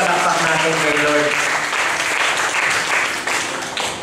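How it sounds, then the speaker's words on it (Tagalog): A church congregation claps for the Lord during a Filipino sermon, loud sustained clapping while a voice carries over it at the start before the applause continues alone. "Palakpakan natin si Lord"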